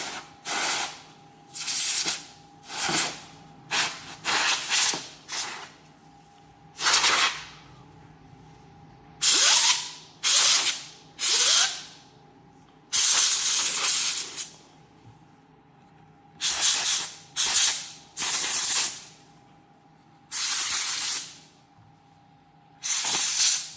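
Compressed air blown in short, sharp hissing bursts to clean a BitAxe Gamma bitcoin miner, over a dozen blasts in uneven rhythm with a faint whirring of its spinning fan between them.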